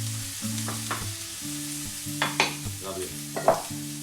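Onions and garlic with salt sauteing in a pan, a soft continuous sizzle with a few stirring scrapes; a voice briefly speaks a word over it.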